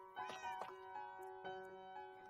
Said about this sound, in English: I think I'm gonna name my new cat Mittens